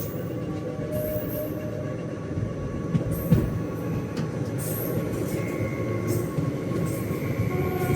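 Aboard the Narasapur–Hubli Amaravathi Express passenger train near Guntur, a steady low rumble of rolling wheels on track carries on throughout, with faint metallic squeals and light rattles over the rails.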